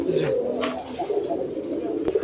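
A male Gorra pigeon coos close by in soft, rolling throaty phrases that repeat steadily across the short stretch, with no voices over it.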